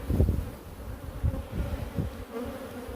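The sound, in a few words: honeybee colony buzzing in an opened hive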